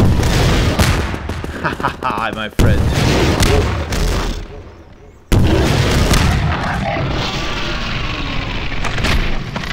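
In Garry's Mod VR, a grenade launcher fires several heavy booming blasts with rolling echoes, loud and close, amid continuous gameplay noise while a voice briefly speaks.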